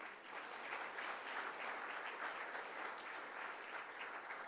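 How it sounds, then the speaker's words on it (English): Steady, dense applause from a conference audience fills the whole stretch at an even level, many hands clapping together without a break, close and sustained. "please keep that applause going for the MC of the day"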